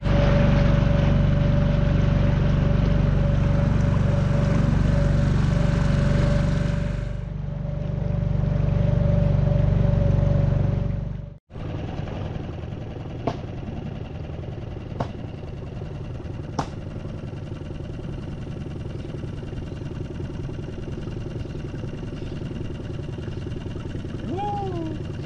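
A motorcycle carrying three people rides along a road: a loud, steady roar of engine and wind for about eleven seconds, then an abrupt cut to a quieter, even engine hum with a few sharp clicks.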